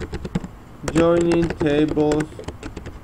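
Quick clicking keystrokes on a computer keyboard, close and crisp, with someone speaking over the middle of the typing.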